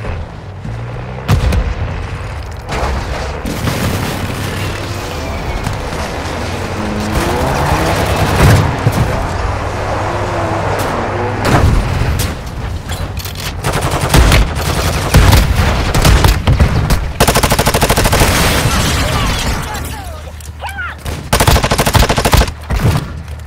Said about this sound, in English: precision airstrike. Find cover.